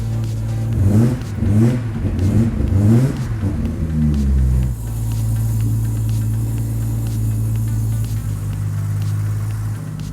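A Toyota Cresta engine, just repaired with new ignition coils, revs hard several times in rising and falling bursts, then drops to a steady, even idle that runs on alone.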